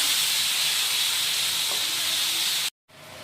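Spices fry in a pan with a splash of water for a mutton liver dish, giving a close, continuous hiss and sizzle that cuts off abruptly near the end.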